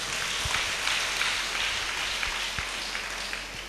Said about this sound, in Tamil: அதுக்காக ஒரு கைத்தட்டு.